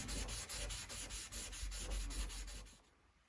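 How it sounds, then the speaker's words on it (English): Rapid, even back-and-forth strokes of 800 grit sandpaper on a small wood block flatten body putty over car paint chips. The rubbing is quiet and close, then fades at the end. "use 800 grit sandpaper on a little block of wood like that"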